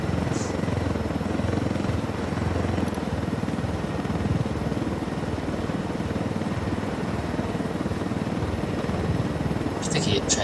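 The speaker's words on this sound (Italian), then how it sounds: "Elicottero." A helicopter in the video game Ghost Recon Wildlands throbs with a steady, dense rotor chop that stays loud and continuous throughout, while a person talks over it.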